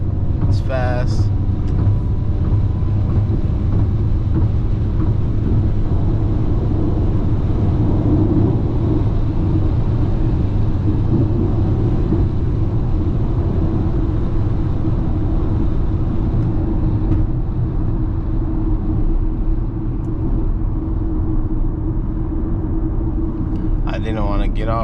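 A 2024 Ford Mustang Mach-E electric car cruises along a road, heard from inside the cabin as a steady, loud low rumble of road and tyre noise with a voice speaking at times.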